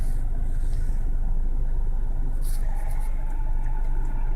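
A car rolling in neutral, with a steady low engine rumble and the hiss of air vents running throughout, close and continuous with no voices.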